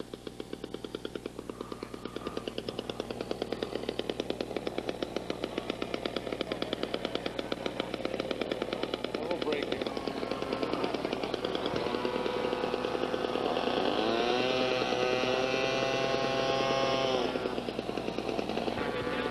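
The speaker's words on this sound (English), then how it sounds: "the man has checked the engine, revved it up, sounds good, and he's taxiing down toward the end of the runway" Light aircraft piston engine at an early-1980s fly-in, a steady loud rattling drone that rises into a higher revving pitch partway through as the plane taxis toward the end of the runway, close and continuous with no talking.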